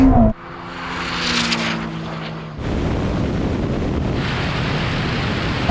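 Ferrari SF90 and Porsche 911 Turbo S launching side by side in a half-mile drag race, a loud sustained roar of acceleration with a sharp jump in intensity partway through, rushing wind noise throughout.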